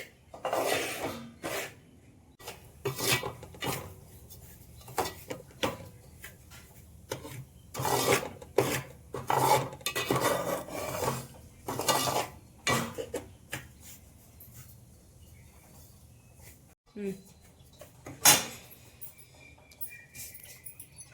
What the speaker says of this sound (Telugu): మారిందాక దోర దోర వేగిందాక వేయించాలి ఫ్రెండ్స్